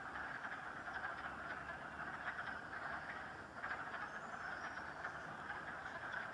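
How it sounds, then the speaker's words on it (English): A steady chorus of frogs calling in mating season from a distance beside a road, a dense pulsing trill that continues without pause over a low ambient rumble. "Listen to all those frogs."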